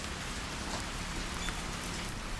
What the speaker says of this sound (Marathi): इथे पाऊस पडतो, मी इथूनच दाखवते